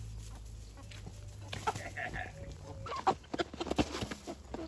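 Backyard chickens clucking near a beehive during a spring hive inspection: soft, scattered clucks and short calls that build toward the end over a steady background hum.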